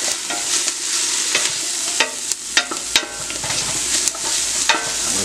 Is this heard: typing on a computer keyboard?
no